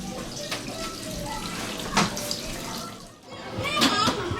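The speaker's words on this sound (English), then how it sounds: "Buckets pouring in our roof." Rainwater leaks through a damaged roof after heavy rain and pours into buckets, making a steady close splashing and trickling with a few louder splashes.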